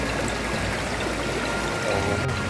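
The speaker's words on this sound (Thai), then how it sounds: "สายน้ำไหล สวยงามครับ" Steady broadband rush of flowing stream water at Naka Cave, Nong Bua Daeng, Khemarat, Ubon Ratchathani, continuous and fairly close, with no clear talk over it.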